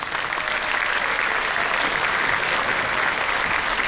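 A concert audience gives a steady, dense round of applause for a singer at a community show band jazz and love-song performance, loud and continuous throughout with no voices.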